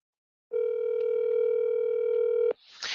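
A steady telephone ringback tone hums for about two seconds on an outgoing call, loud and close, then cuts off into a burst of noise.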